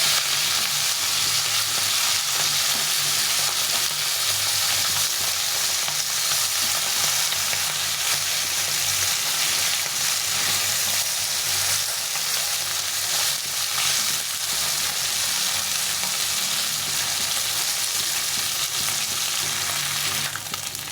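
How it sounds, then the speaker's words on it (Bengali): Fish sizzles steadily in hot oil in a pan over a long stretch, a loud, dense, even frying hiss with faint stirring underneath and no speech. "মাছটা এক পাশে ভাজা হয়ে গেছে এখন উল্টে দিয়ে ভেজে নিতে হবে"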